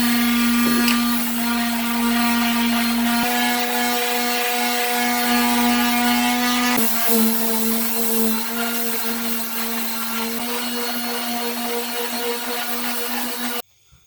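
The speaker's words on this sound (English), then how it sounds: "while he is sanding the ceiling" Steady whirring drone of a power sander working across a ceiling in an office trailer being converted into a home, continuous and loud with slight pitch shifts, briefly cutting off at the end.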